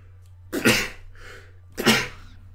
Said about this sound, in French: Je vais de nouveau éternuer